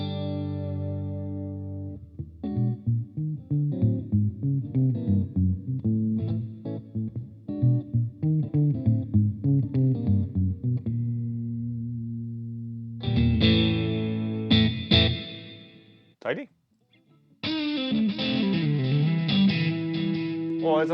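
A GTRS electric guitar on a neo soul preset plays chordal phrases and melodic lines drenched in heavy delay, notes ringing and repeating, with a brief near-silent gap before louder, brighter playing returns.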